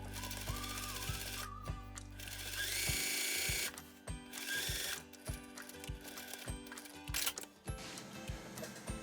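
Sewing machine stitching a seam pocket on fabric, a close, rapid mechanical chatter of needle strokes that runs steadily, then pauses and restarts in short bursts.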